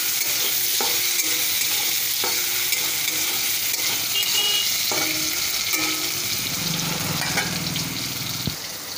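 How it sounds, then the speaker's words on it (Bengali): Potatoes fry in mushroom oil in a pan, giving a steady close sizzle throughout, with intermittent scrapes and knocks of stirring and a brief deeper hiss near the end. "এবার এই আলুটাকে একটু ওই মাশরুমের তেলেই ভেজে নিলাম।"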